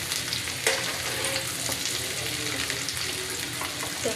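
Potatoes frying in a pan give a continuous close sizzle with scattered crackles and occasional stirring scrapes, moderately quiet and unbroken throughout.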